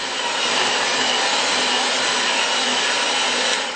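Electric hand mixer whirring steadily through thick chocolate cake batter, a continuous loud buzzing motor sound held at one speed without pause.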